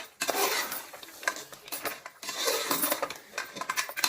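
Masala paste gets mixed in a cooking pan for goat trotter curry, with bursts of metallic scraping and clinking from a spoon against the pan, close and fairly loud, pausing briefly between strokes, no voices.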